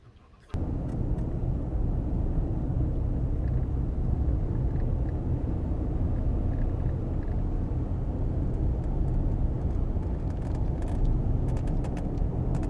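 A truck drives along a road, its engine and tyre rumble steady and loud from start to finish after a brief quiet opening, with no talking over it.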